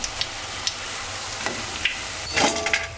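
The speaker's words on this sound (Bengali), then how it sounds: "এখন আমি আলুর চপগুলো ভেজে নিব" Potato chops frying in hot oil give a steady sizzling hiss, with scattered light taps and a brief louder scrape near the end.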